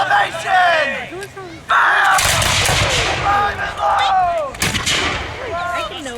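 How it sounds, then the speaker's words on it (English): Reproduction smoothbore flintlock muskets fired in volleys at a Rochambeau Festival tactical weapons demonstration, with loud, booming blasts and a rolling rumble as voices call out around the firing line. "All of these men are firing reproduction flintlock muskets."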